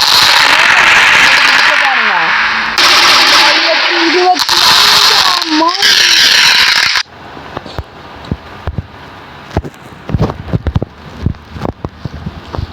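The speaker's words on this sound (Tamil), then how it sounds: "இன்னொரு பட்டாசு நல்லா பாருங்க ஃப்ரெண்ட்ஸ்" A firecracker goes off outdoors, bringing a burst of sharp cracks and pops after a loud, busy stretch. Someone talks over the noise.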